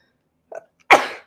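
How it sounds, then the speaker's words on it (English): A single sharp sneeze bursts out close by, preceded by a brief soft intake of breath. "Oh, I might sneeze."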